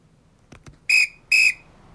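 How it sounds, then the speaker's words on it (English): A referee's whistle blows two short, shrill blasts in quick succession, clear and close, after a couple of faint taps, with no voices. "I hear the final whistle has blown, indicating the end of our interview."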